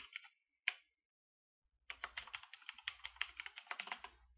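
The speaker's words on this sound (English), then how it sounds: "So I'm just gonna put in my secret password here." Rapid keystrokes on a computer keyboard as a password is entered while setting up a Zotac mini PC as a pfSense router: a few isolated taps, a pause, then a dense run of close clicking typing.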